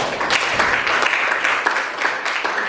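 A class of students applauding together in a classroom, a steady wash of many hands clapping at close range for a few seconds without a break.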